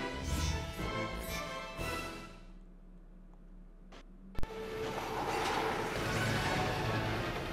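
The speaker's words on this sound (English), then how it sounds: "I've got to stop this train." A train in the Spider-Man 2 PSP video game rumbles steadily with rolling, rattling noise, dips briefly, then a sharp clank sounds before the rumble returns louder and continuous.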